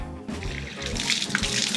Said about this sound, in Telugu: ఇప్పుడు నువ్వే పోసుకో నీ గుండు మీద.